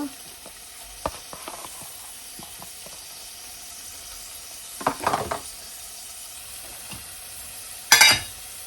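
Chopped prawns go into a pan of sizzling mixed vegetables, giving a quiet, steady sizzle broken by a few louder bursts of hissing and stirring clatter.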